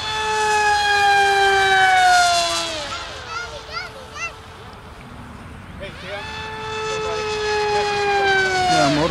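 An electric RC model airplane on 5 cells with a 7x8 propeller makes a corkscrew takeoff. Its motor gives a loud, high whine that rises and falls twice as the throttle changes, with people talking over it.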